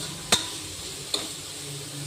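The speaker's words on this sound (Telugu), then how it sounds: "మిల్ మేకర్ వేసి కొంచెం మిల్ మేకర్ ఇట్లా ఫ్రై అయిన తర్వాత" Meal maker soy chunks fry for biryani in a pan with a soft, low continuous sizzle. Two sharp clinks of a utensil against the pan stand out, one early and one about a second later.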